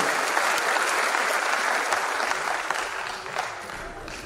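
An audience applauds for Irfan, a NEET topper from Aurangabad district, at a motivational event for NEET-JEE students: sustained, dense clapping that stays steady throughout and tapers slightly toward the end.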